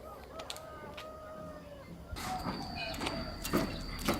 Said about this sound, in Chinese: 这一路过来能听见很多的鸡叫声